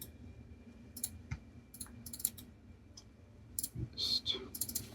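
Typing on a computer keyboard at a desk, scattered quiet key clicks in short bursts, close but faint, with no talking.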